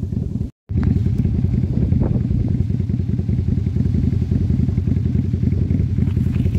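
A motorcycle engine runs steadily and loudly up close while riding on the road to the Seven Lakes. It keeps a constant rumbling drone with clattery texture, and a brief dropout comes near the start.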